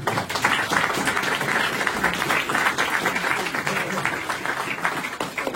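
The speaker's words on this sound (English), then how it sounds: "please give a big round of applause to Anita" Guests at an exhibition launch applaud warmly, a dense and fairly close round of clapping from a modest crowd that carries on evenly for several seconds, with a few louder claps standing out.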